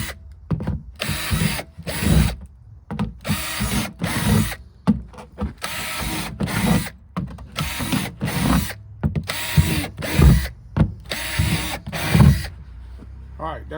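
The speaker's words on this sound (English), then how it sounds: "Just drill you some holes in the bottom so you can have some proper drainage" A handheld power drill bores drainage holes in the bottom of a garden planter, running in about a dozen short, loud whirring bursts separated by brief pauses.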